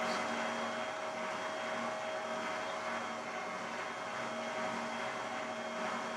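A juicer runs continuously, a steady loud motor whine with a hum and broad whirring noise, unbroken and close throughout.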